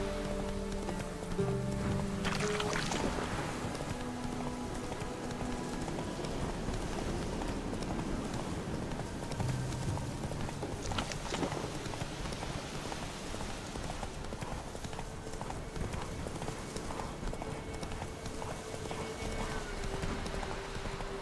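Horse hooves clip-clop steadily in The Witcher 3 video game, a continuous trotting rhythm under a soft rain-like ambient bed, with a brief whinny early on.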